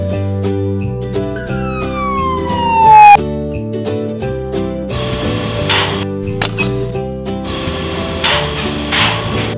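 A single short animated ambulance siren wail sweeps across a light musical tune, followed by bursts of clattering mechanical noise.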